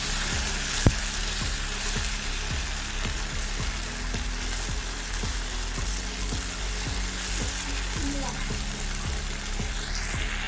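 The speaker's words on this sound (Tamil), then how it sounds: "தக்காளி சேர்த்து கூடவே கொஞ்சம் உப்பு சேர்த்து நல்லா வதக்கி விடுங்க." Tomatoes with salt sautéing in a pan, a steady sizzle broken by repeated scraping stir strokes, fairly close, with no talking.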